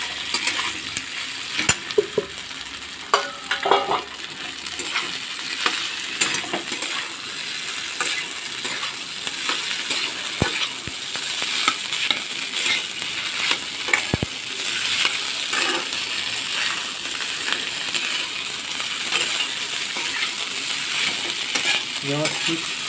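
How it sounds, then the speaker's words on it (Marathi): Boiled potato and sago are sautéed in a pan, with a continuous sizzle and frequent scraping, clinking spatula strokes against the metal that run steadily and close throughout. "व्यवस्थित परतून घेतो."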